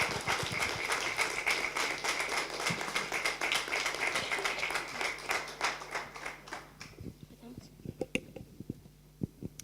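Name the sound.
audience applause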